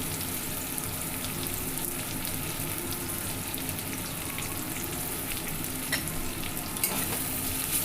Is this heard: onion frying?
yes